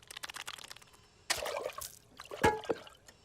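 Drinking water is poured at a dining table in a few faint, brief splashing bursts, with soft trickling between them against quiet surroundings.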